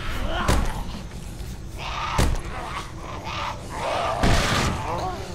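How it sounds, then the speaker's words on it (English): A door being bashed open in the zombie video game Dead Island, heavy thuds and slams landing in bursts amid game ambience and a voice talking over it. "Bust this door here."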